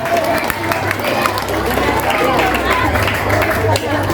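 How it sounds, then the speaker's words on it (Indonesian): Applause for an older student at a grade 6 school overnight event, a dense crowd clapping and cheering steadily mixed with children's chatter, loud and close throughout. "Boleh berikan tepuk tangan untuk kakak."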